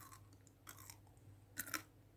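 Crunchy, sweet snack being chewed alongside coffee, a few quiet close crunches with soft bites spread through the stretch, the louder pair near the end, no talking.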